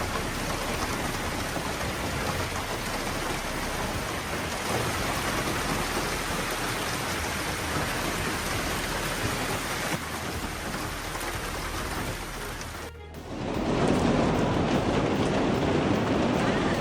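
A dense, loud downpour of hail and rain in Bend, coin-sized stones hammering surfaces in a continuous roar, briefly dropping out before resuming even heavier.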